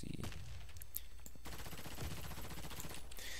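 Rapid gunfire in the Warface video game, dense bursts of automatic shots rattling continuously, loud and close, with a brief sharper burst near the start.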